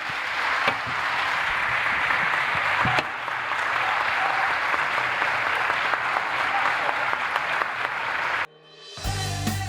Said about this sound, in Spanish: un fuerte aplauso para el señor Sandro Rosell